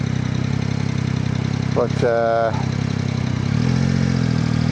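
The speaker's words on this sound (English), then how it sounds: "just a quick feel of the engine really, more than anything" A car engine idles steadily in the background, a constant low rumble running through the whole stretch, while someone speaks briefly over it near the middle.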